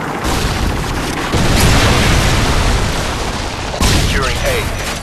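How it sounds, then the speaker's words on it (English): Predator missile strike in Modern Warfare 2 on the Karachi map during a Domination match, thunderous booming blasts with rumbling tails, a loud impact early and another near the end, with game voice callouts mixed in. "Predator missile inbound."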